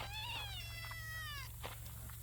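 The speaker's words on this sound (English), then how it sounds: "What are you meowing?" A cat lets out a single drawn-out, whiny meow close by, followed by a short pause and faint rustling, against a low steady hum.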